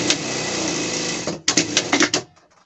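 A sewing machine topstitches a seam on a pet gaucho costume, running in one steady whirring burst, then several quick short stitching bursts before it stops, close and loud.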